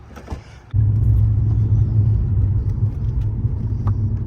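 A Lexus LS400 engine rumbles steadily from inside the cabin on a test drive after a coilover install, as the car pulls away and drives on, with a low road drone throughout.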